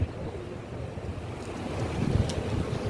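Wind blows steadily across an outdoor market, a low, constant rushing buffet on the microphone with gusts swelling toward the end.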